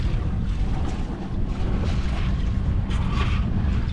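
Motorboat heading out through a harbour channel toward the open water, a steady close engine drone mixed with wind buffeting the microphone and water rushing along the hull throughout.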